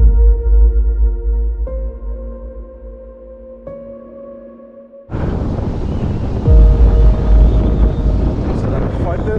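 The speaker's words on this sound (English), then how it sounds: "this wind's pumping, eh?" Strong wind blows across a rocky seashore during land-based fishing, first with a low rumble under tonal hum, then a sudden loud, dense roar of gusting wind and surf buffeting the microphone, continuous and close.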